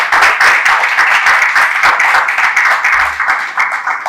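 An audience at a Gujarati literary book-introduction event applauds the two speakers, a dense continuous patter of many hands clapping that fills the hall throughout.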